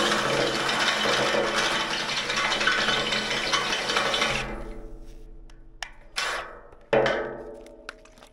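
A drill bores through stainless steel with a harsh, grinding whine that runs steadily, then breaks into a few short bursts and trails off into quiet near the end.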